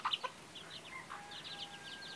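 Stray chickens cluck in a short burst of soft, close calls while being fed outdoors, followed by quieter scattered clucks and chirps.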